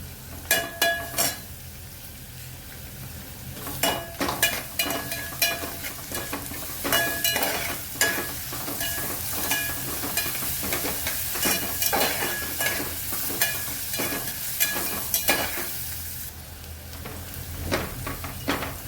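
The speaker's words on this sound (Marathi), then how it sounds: "आपले आलं लसूण पेस्ट छान परतलेले, खमंग वास सुटला." Ginger garlic paste sizzles in a pan for a vegetable pulao while a spoon scrapes and stirs it, giving repeated close clinks and scrapes over a steady frying hiss, with no talking.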